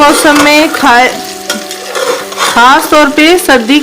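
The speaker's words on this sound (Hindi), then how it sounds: "अब मैं 3 से 4 मिनट अदरक लहसुन के साथ इसको फ्राई कर रही हूँ।" Goat trotters frying in a pan with ginger and garlic, with steady sizzling and stirring clatter close up, while someone talks over it.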